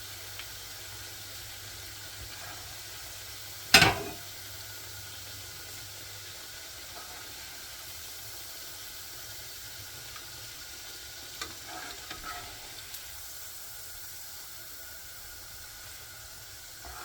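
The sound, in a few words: shami kebabs frying in a pan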